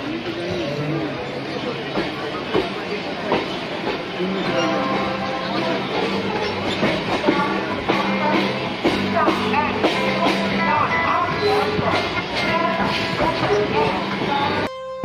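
Inside a moving passenger train bound for a temple visit, a steady rolling rumble with rhythmic rail clatter runs throughout, with a distant horn and background chatter of people aboard.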